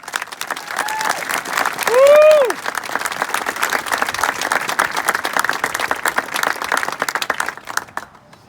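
A high school graduation audience applauds to welcome a student speaker at the Waukesha West 2020 ceremony, with steady, sustained clapping filling the hall for several seconds and a few whoops and cheers rising briefly above it before it tapers off.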